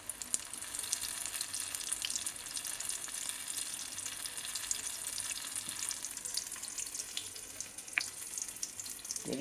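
Mirchi bajji, battered green chillies, frying in hot oil, giving a steady close crackling sizzle with fizzy bubbling throughout and a few sharper spits and pops.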